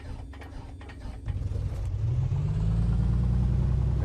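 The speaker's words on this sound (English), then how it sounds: "we'll just click on this, and it'll go ahead and start the plane up" A Comanche 250 piston aircraft engine in a flight simulator cranks over with a clattering starter and then catches, building to a loud, steady, low rumbling idle.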